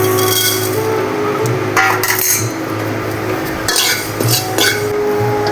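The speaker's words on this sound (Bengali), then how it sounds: "এটা আমি হালকা ভেজে নেব।" Panch phoron, about a spoonful of the five-spice mix, being lightly roasted in a pan for a mango pickle, heard as soft scraping and stirring with metallic clinks of a spoon against the pan, close and steady with no talk.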